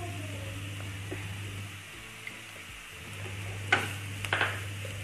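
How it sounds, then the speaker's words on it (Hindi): Radish paratha filling stirred with oil in a pan, a soft low sizzle under a steady hum, with a few scraping stirs and clinks near the end. "इसको अच्छे से हमें तेल के साथ मिक्स कर देना है।"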